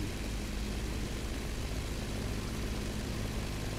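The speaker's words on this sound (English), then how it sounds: "I hear the plane, but I do not see it at all." A propeller airplane's engine passes overhead in a video game, heard as a faint, steady low drone that runs unbroken throughout.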